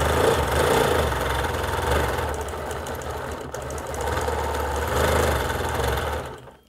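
A sewing machine running overlock or serger thread sews big stitches with a close, steady mechanical hum and rapid chatter that swells and eases in two long runs before winding down at the end, with no talking.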